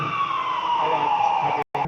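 A loud ambulance siren wails with a steady, slowly gliding tone, close by, cutting off briefly near the end before resuming.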